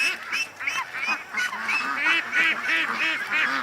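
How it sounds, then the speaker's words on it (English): Ducks leaving a pen, with a steady run of overlapping honking quacks from several birds, close by and fairly loud with no pauses. "because the ducks are leaving"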